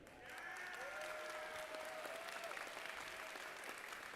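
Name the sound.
applause for competing robotics teams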